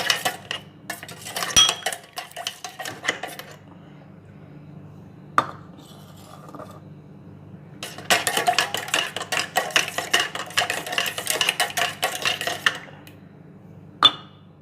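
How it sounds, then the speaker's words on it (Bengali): Spoon stirring rose lassi in a glass, close metallic clinks and scrapes in quick irregular bursts, separated by quiet pauses and a few sharper single taps. "এবার আমি একবার নাড়িয়ে দেবো"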